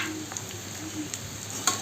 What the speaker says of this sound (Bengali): আমি আলুগুলো ভাজার জন্য সামান্য পরিমাণে লবণ দিয়ে দিলাম